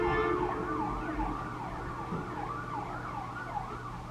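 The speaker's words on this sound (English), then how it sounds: "ambulance coming." An ambulance siren wails in a steady rising-and-falling pattern a short way off, fairly loud and alone with a low traffic rumble beneath it, holding its level through the stretch.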